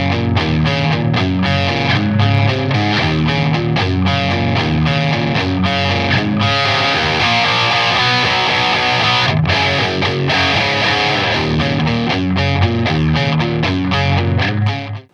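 Electric guitar playing a riff through a Boss Adaptive Distortion pedal, thick and saturated with sustained chords and quick picked notes, loud throughout before cutting off.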